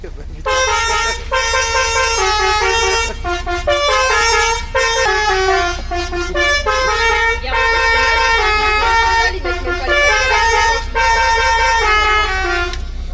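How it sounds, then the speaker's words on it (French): A loud multi-tone musical bus horn plays a tune of short and held notes in quick succession, over a steady low engine rumble, at the 24 Hours of Le Mans. "Bon Bruno il a récupéré son klaxon."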